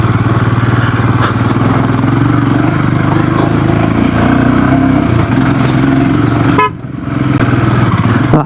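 A Scram 440 motorcycle engine labours loud and close in first gear up a mountain hairpin bend on an off-road ride, a steady throbbing drone that dips briefly near the end before picking up again.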